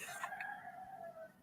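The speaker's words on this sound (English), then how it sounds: "You hear the rooster is like going off, and it's like well into the day." A rooster crows once late in the morning, a faint, distant drawn-out call fading after about a second.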